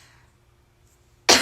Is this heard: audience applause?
no